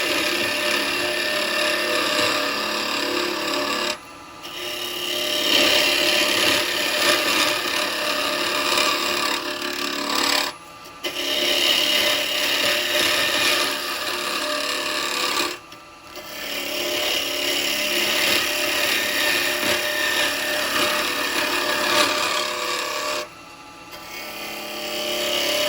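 A turning tool scrapes and rubs along a very hard wooden bowl spinning on a lathe, a loud, continuous rasping drone broken by three short pauses as the cut stops and starts again, with no speech.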